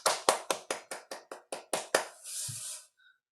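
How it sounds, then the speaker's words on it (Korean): Roughly nine sharp, evenly spaced hand claps from a small group welcoming someone to a church home Bible school class session, close and clear, followed by a brief rush of noise before silence. "박수."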